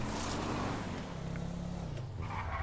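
A car driven in GTA Online rumbles steadily with a low engine drone, alongside a second vehicle, with a brief rising rev near the end.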